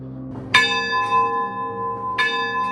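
A large bell at a remote bar on Washington's Olympic Peninsula rings with two loud strikes, each leaving a long, shimmering ring that hums and fades between them.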